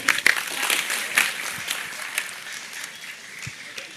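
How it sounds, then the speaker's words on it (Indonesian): Scattered audience applause at an evening gathering, a few sharp claps up front thinning into a lighter, uneven patter that fades toward the end. "Oke, tepuk tangan Pak Busro semuanya."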